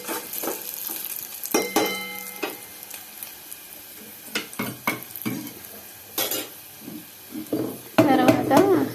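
Tempering sizzles and crackles in a pan for Telugu-style amaranth leaf dal, with metal stirring and clinks of a spoon against the pan, close up, under a voice speaking throughout.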